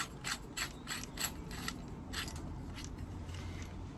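A bolt with a metal washer is tightened beneath an oak worktop while fitting out a vintage coffee van, giving a close run of quick ratcheting clicks in uneven bursts.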